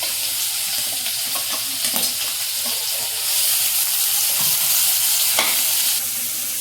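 Dried anchovies sizzle and crackle steadily while frying in a pan, with bursts of stirring and occasional louder spatters over a constant hiss.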